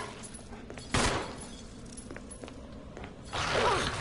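Gunfire in the survival horror game Resident Evil HD: two loud, broadband shots about two and a half seconds apart, each with a short ringing tail, over a low, steady game ambience.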